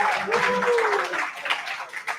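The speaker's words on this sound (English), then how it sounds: "So round of applause for our other sponsors as well" A crowd at a crypto conference in Dubai applauds the event sponsors, dense continuous clapping filling the room with a faint whistle-like tone sliding through it.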